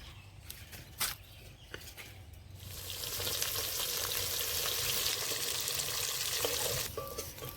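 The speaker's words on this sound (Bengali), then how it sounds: "এ দেখুন প্রত্যেকটা মাছ কিন্তু একদম লালচে করে ভেজে নিয়েছে" Shol fish (snakehead) fries in hot oil: after a few seconds of faint clatter, a loud, close, hissing sizzle bursts in and holds for about four seconds before cutting back, with no one speaking.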